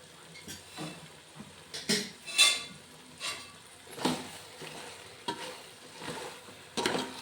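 Chicken sukka being stirred in a pan, with soft scraping and clinking of a spoon against metal in irregular strokes over a faint sizzle, close and fairly quiet.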